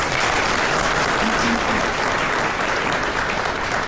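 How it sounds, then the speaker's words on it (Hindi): A crowd applauds at a meeting in Ranchi, with steady, dense clapping that stays loud and even throughout without pause. "जोरदार एक बार ताली हो जाती है"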